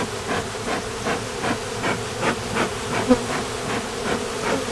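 A dense, continuous buzzing of many honey bees fills the space during a swarm trap transfer, steady and close with a gently pulsing drone.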